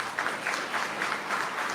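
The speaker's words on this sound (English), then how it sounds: "I'll ask for a round of applause for the work that's been done." Steady applause from an audience at a public board meeting in recognition of completed work, a dense, even patter of many hands clapping at moderate volume with no voices over it.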